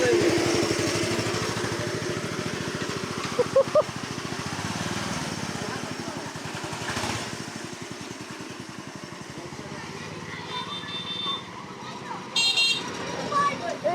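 A loud motorcycle engine runs steadily and close by for the whole stretch, with a brief honk near the end, while several people chat over it.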